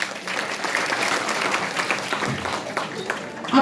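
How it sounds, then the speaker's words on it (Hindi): At a DXN business opportunities meeting in Janakpur, Nepal, the audience claps loudly and continuously, a thick wash of applause with a few sharper hand claps standing out near the end. "जोरदार ताली होना चाहिए।"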